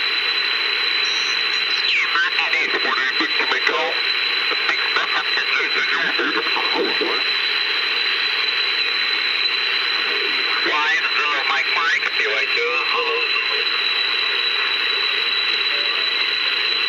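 A Hallicrafters SX-71A receiver tuned to a Canadian amateur shortwave station, with a warbling, distorted voice in two bursts over constant hiss and a steady heterodyne whistle.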